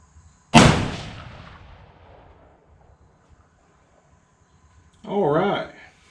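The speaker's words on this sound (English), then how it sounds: "So let's take a few shots and see if we can't get this thing sighted in." A single loud rifle shot cracks close by while a scope is being sighted in, its echo rolling off over a couple of seconds, then someone speaks briefly near the end.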